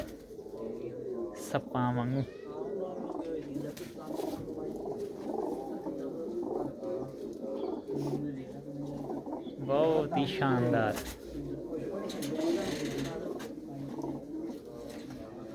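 Pigeons at Mullanpur Kalan, Mandi Gobindgarh coo in soft, low, repeated calls close by, mixed with occasional flutters and small squeaks, while someone talks over them for much of the time.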